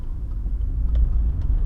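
Steady low rumble of a car's engine and road noise heard from inside the cabin while driving along a road, continuous and fairly loud with no talking.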